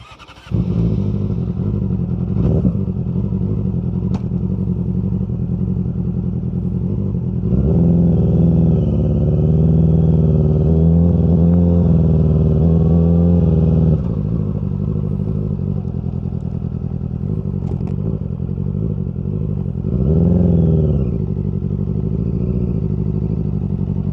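A Yamaha R6 sport motorcycle is ridden in Korea, its engine droning steadily and loudly throughout, rising in pitch as the rider accelerates through the gears and easing off between pulls.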